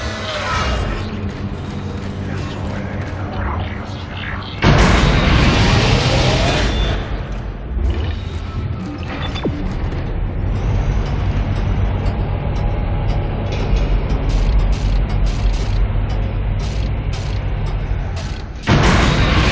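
In the video game Dead Space, an asteroid bombardment on a ship's exterior: heavy rumbling booms and crashing impacts rise suddenly and persist as a dense, loud mechanical din, with creaking and metallic clanks throughout.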